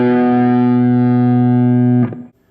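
A distorted electric guitar plays a solo run with a swing feel. Loud, close, sustained notes hold steadily, then shift near the end and fade quickly.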